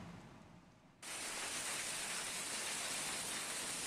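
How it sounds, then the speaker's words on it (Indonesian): Heavy rain mixed with hail pours down over the city of Malang, East Java: a faint hiss that abruptly jumps to a loud, dense, steady roar of falling water and ice. "Hujan deras bercampur es melanda sebagian wilayah kota Malang."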